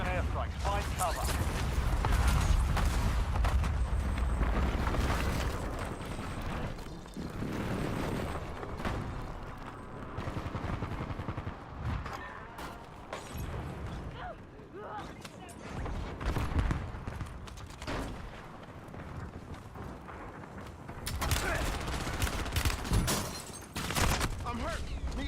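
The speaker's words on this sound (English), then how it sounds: "Enemy precision airstrikes." Precision airstrike explosions in Call of Duty Warzone, a loud dense barrage of blasts and gunfire-like bursts rolling on for the length of the clip, with game voice lines over the top.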